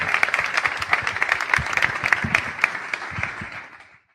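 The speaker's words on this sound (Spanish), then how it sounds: "un aplauso para todos y para los participantes" Conference audience at a betting summit in Valencia applauding the participants, a steady wash of many hands clapping close and fairly loud, fading out at the end.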